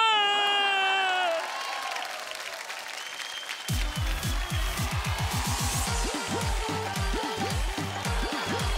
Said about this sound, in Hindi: तो जोरदार तालियों से स्वागत किया जा रहा है हमारे सोशल बाबा